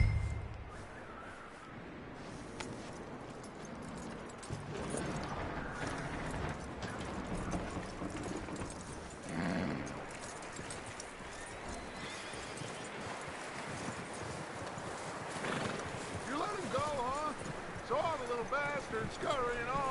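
Horse hooves clip-clop along in the Red Dead Redemption 2 video game, a faint, uneven patter running under game sounds and voices talking throughout.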